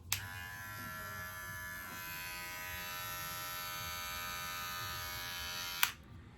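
A small USB-C rechargeable electric hair trimmer switches on with a click and buzzes steadily and closely for about six seconds before clicking off.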